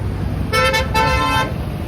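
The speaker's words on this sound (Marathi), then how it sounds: "सगळेच वाहने इकडनं जातात, फार गर्दी असते या रस्त्याला" Steady traffic rumble on a narrow, crowded road with metro construction, a car horn honking in two bursts midway, close by and fairly loud.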